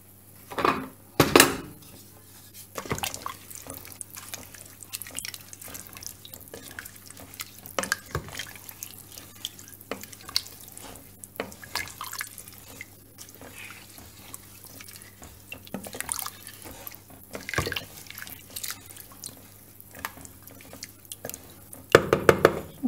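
Lentils with chard, paprika and turmeric are stirred in a pot, giving scattered clinks and scrapes of a utensil against metal over a faint watery background, with a few louder knocks near the start and end.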